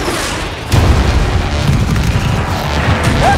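A missile explodes in the Battlefield 4 Naval Strike trailer with a sudden heavy boom that rolls into a rumbling, crackling aftermath, loud and close.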